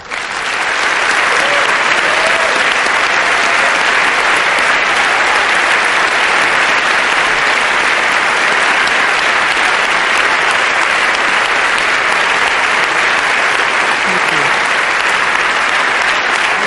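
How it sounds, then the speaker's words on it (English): Dense, loud, continuous applause from a large audience at a queer film award panel, an unbroken wash of clapping holding steady for over fifteen seconds. "It's your applause."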